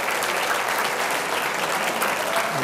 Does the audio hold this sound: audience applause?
yes